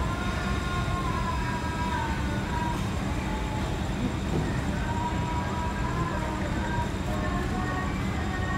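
A passenger train runs on rails between Solo and Semarang, heard from inside as a continuous, even rumble and hum with faint tonal whines, steady throughout.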